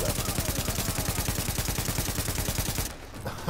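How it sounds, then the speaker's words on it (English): Gunshots from the video game The Division rattle in a rapid, unbroken automatic burst, loud and dense, that cuts off shortly before the end. "I'm so glad I missed with every one of those shots"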